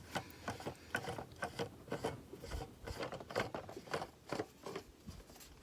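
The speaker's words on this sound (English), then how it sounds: "go ahead and screw the top onto your power brake bleeder" A threaded plastic cap is screwed by hand onto a power brake bleeder reservoir while bleeding the brakes on an R56 Mini Cooper S, giving close, repeated ratcheting clicks and scraping turns at a steady rhythm with no talking.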